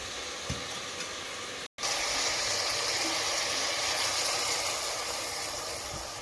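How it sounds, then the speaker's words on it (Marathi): Carrot pieces for gajar halwa sizzle steadily in ghee in a pan, a continuous close frying hiss that cuts out for an instant and then resumes. "त्यामध्ये हे गाजर थोडेसे शिजत आहेत"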